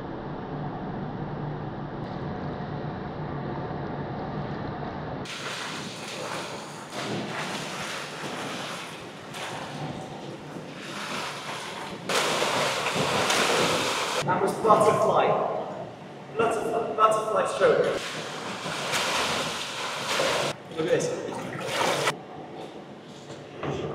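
Water sloshing and splashing in a hotel swimming pool, with muffled rushing and bubbling as the microphone goes underwater, loud and continuous with shifting surges.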